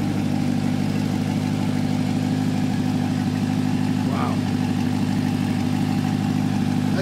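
A 2020 Corvette C8 Z51 with its mid-mounted 6.2 liter V8 and performance dual-mode exhaust idles steadily, a low continuous rumble with faint clatter, loud and close throughout.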